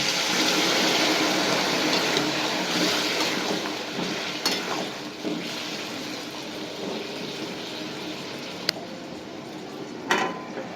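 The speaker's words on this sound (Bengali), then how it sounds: "আমার গরম জল করা ছিল, এবার একটু জল দিয়ে দেবো।" Hot water pours into a pan with a rushing, gushing flow that is loudest at first and then settles into a softer trickle, broken by a few metallic clinks of cookware.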